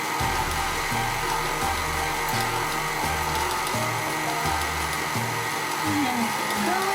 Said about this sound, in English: we're going to just blend this into a nice cookie dough